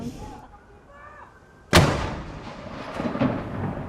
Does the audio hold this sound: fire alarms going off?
no